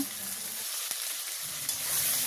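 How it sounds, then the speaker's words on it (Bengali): Ginger, garlic, onion and cumin pastes with bay leaves and whole cumin sauté in a hot pan while cooking a village-style Bangladeshi dish, giving a steady, close hiss of sizzling oil with no talking. "সব মশলাগুলো এখন সুন্দর করে কষাই নেব"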